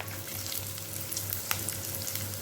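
Onions with curry leaves and green chillies sizzling in hot oil for a Tamil egg gravy, a steady close crackling fry with light stirring scrapes and a low hum underneath.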